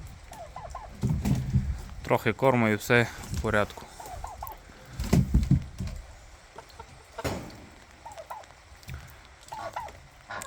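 Geese and turkeys on a farm, including large grey geese, with gobbling and honking calls in bursts near by, interspersed with a person talking and pauses between the calls.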